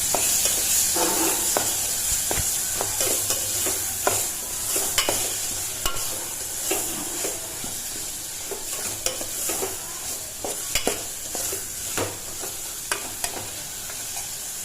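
Tomatoes sizzle and fry in oil in a pan while a spoon stirs them, giving a steady close hiss punctuated by repeated scraping and knocking strokes of the utensil.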